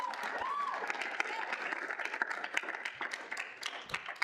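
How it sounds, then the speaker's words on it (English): A round of applause at a student senate meeting: a modest room of hands clapping steadily with some individual claps standing out, plus a brief vocal sound near the start. "give him a round of applause"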